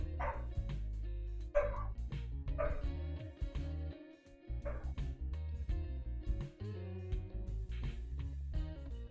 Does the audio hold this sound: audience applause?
no